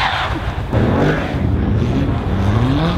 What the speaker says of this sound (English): We got an RS6, which is about to fly past us, I believe.